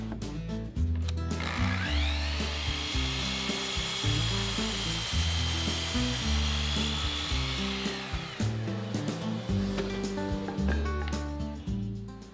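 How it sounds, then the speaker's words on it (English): A miter saw set up with a stop block cuts wooden planter legs to length: a sustained whining cut of several seconds starts abruptly, then winds down, loud and close over a background of steady music. "I'll set up a stop block on the miter saw and cut the legs to their final length of 21 1/4"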